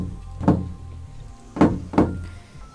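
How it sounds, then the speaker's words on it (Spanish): Three faint, dull knocks on a door in a visual novel, a single tap followed after a pause by two closer-spaced raps, soft and light like small nuts thrown against wood, with no voices. "El sonido era débil, más como si alguien lanzara nueces contra la puerta"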